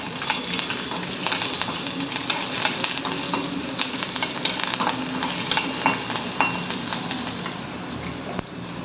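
Chili pieces and bay leaf fry in hot oil in a pan while being stirred, producing a steady close sizzle broken by frequent scraping clicks of the spoon against the pan, with no speech.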